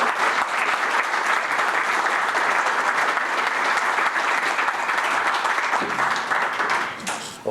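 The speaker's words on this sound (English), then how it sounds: "and if you guys would just give him a warm round of applause, Paul Westphal." A warm round of applause from an audience at a Bergen Catholic basketball event, sustained steady clapping from many hands, fairly loud and close, fading slightly at the end.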